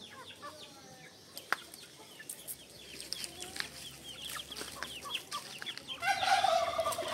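Native chickens and Sasso hens cluck softly and intermittently nearby, with scattered chirps and one sharp tap. A louder, rising rooster-like call closes the sequence.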